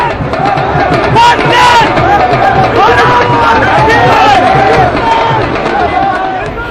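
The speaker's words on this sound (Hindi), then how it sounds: "हर तरफ भीड़ ही भीड़, हर तरफ जश्न ही जश्न" A big crowd at Delhi airport welcomes Olympic athletes home from Tokyo, with a loud, dense mass of shouting and cheering voices that stays steady and close throughout.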